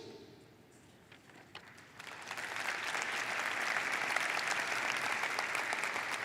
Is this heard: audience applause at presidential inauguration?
yes